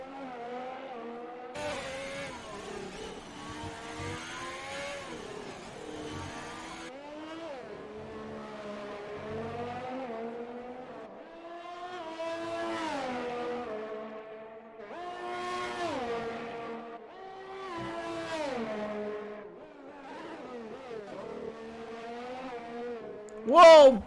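An Alfa Romeo Formula 1 car in a sim racing game at a Baku street circuit, its engine note rising and falling through gear changes over about twenty seconds, with a commentator talking over it and a sharp burst at the end.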